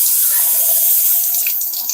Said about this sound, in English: I'm not gonna put that much water in it.